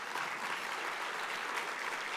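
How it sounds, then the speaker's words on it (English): Conference audience clapping for the event staff, a dense, even round of applause from a sizable crowd heard at moderate distance, with no talk over it. "So we could give them a round of applause,"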